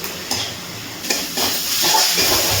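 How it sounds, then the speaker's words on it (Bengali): A spice mixture with salt and a little water is stirred and sautéed in a pan for chicken Mughlai filling, with a steady soft sizzle broken by a few scraping spoon strokes against the metal. "খুব ভালো করে সব কিছু মিশিয়ে আবারও একটু কষিয়ে নিচ্ছি"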